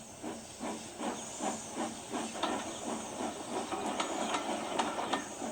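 An animated steam engine chuffs steadily with rhythmic hissing puffs over a constant steam hiss, the beats gradually quickening as it pulls away with passengers.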